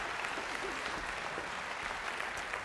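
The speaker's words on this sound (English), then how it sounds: "Let's give them a big round of applause." Steady round of applause from a chamber of commerce luncheon audience, even crowd clapping throughout with no pauses.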